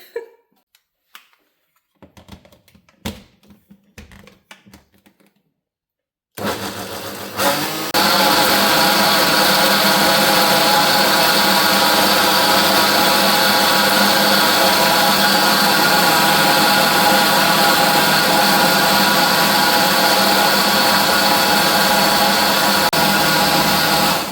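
A blender whizzes up a no-sugar raw tropical fruit mixture for homemade fruit roll-ups. A few clicks and handling knocks come first, then the motor starts and runs loud, close and steady to the end.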